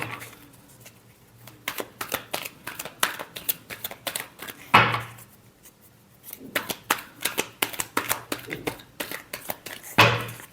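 Tarot cards being shuffled by hand for a Scorpio reading, in two bursts of quick riffling flutters with soft taps between, a sharp slap of the deck near the middle and another at the end; a low steady hum sits underneath.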